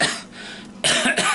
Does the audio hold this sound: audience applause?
no